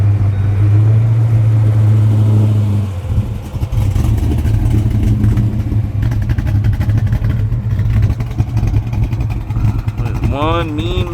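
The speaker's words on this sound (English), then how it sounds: "Alright, Ed, fire this thing up." A 1993 Ford Mustang with a 363 Boss V8 cranks and fires, settling into a loud, lumpy idle with blips of revving close by; voices talk over the engine briefly.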